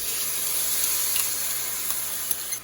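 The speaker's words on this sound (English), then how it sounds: "We're just gonna stir this so that everything's evenly coated." Diced strawberries in a balsamic mixture with honey and garlic sizzle steadily in a pan as they are stirred, with a few small clicks and scrapes near the end.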